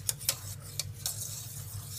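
A spoon scrapes and clinks against a pan while stirring thickening homemade custard, with a few sharp ticks and soft scraping strokes close by and no talking.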